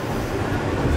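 A subway train roars steadily with a dense rumbling rattle, loud and close throughout, with no clear voices over the noise.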